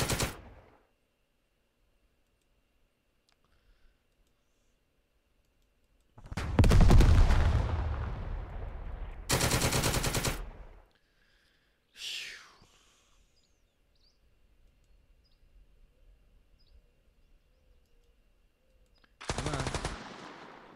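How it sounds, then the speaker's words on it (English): Machine gun fire in a video game, heard as a long sustained burst followed by several shorter separate bursts, loud and close, with quiet gaps between them and no talking. "That's gonna be it for the machine gun."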